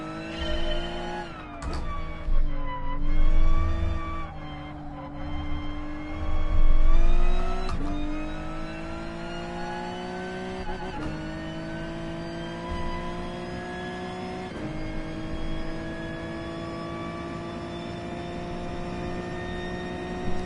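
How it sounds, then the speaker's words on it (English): A Gr.3 race car in GT Sport revs and accelerates hard on its own, the engine note climbing and dropping through several gear changes, then holding a steady high drone near the microphone. "I'm just gonna give it a quick burn, see how it drives."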